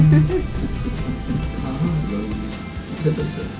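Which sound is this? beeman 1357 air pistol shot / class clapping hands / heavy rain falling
heavy rain falling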